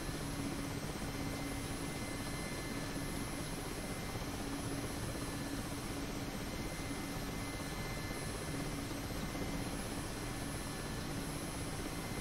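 A Mil Mi-8 helicopter in the DCS flight simulator makes a shallow conventional landing onto its wheels, its rotor and turbine drone loud, dense and unbroken from start to finish.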